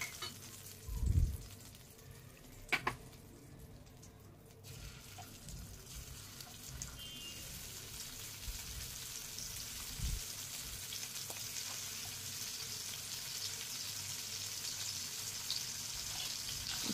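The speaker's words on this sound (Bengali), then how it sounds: "এরকমভাবেই বাকি চিংড়ি মাছগুলো আমি ভেজে নিলাম" Prawns fry in oil with a steady, moderate hiss that grows fuller over time, broken early by a few low thumps and clatters of handling.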